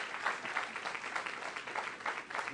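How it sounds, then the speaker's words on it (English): An audience at a climate change school lecture claps for Professor Stefan Uhlenbrook, a moderate, fairly distant ripple of steady applause. "Applause for the Professor Stefan."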